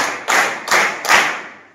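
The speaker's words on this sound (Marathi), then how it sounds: "टाळ्या." Schoolchildren clap together on the first day back after summer vacation, giving three short, loud bursts of applause that each swell and quickly die away, with no voices.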